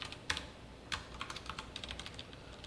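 Programming code typed on a computer keyboard, quiet and close, with irregular clusters of key clicks and a few sharper strokes, no speech.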